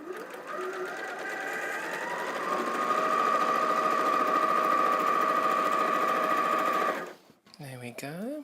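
A sewing machine runs steadily for about seven seconds, chain piecing half-square triangles for a quilt block, with a sustained mechanical whir that stops abruptly. Someone begins talking right after it stops.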